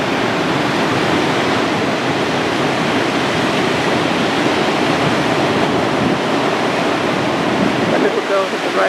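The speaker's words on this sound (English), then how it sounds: "Okay, the tide is coming in more." Atlantic Ocean surf washing in with the incoming tide on the Puerto Rico coast, a loud, continuous roar of breaking waves and rushing water that eases slightly near the end.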